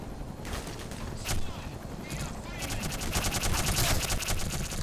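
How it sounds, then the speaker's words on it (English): Gunfire aimed at the player in Black Mesa, a rapid rattling burst building toward the end over background noise, with a voice talking briefly. "The fuck is shooting me?"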